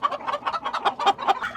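Gamecocks readied for fighting give a quick run of close, moderately loud clucks, short choppy bursts repeating rapidly with no talk.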